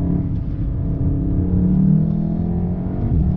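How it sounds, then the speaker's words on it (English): A Volkswagen Golf R hot hatch in race mode accelerating on a hillclimb: a loud, continuous engine drone rises and swells with the revs, heard alone without talk. "It sounds like a proper hot hatch."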